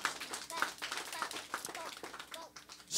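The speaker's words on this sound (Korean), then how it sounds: "박수 한번 해주실래요?" A group of children claps hands in a church Sunday school lesson, a brief burst of light scattered claps close by, mixed with children's voices and an adult talking.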